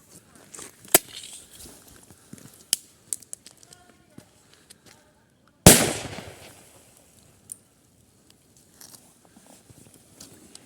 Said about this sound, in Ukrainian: Як тільки ми відпускаємо, іде відлік і відбувається вибух